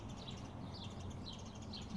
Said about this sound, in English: Birds love those trees